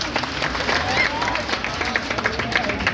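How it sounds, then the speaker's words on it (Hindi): A crowd at a comedy show in Sonpur claps loudly and steadily. Dense, continuous applause fills the whole moment, with a slight murmur of voices mixed in. "एक बार जोरदार तालियां हो जाए।"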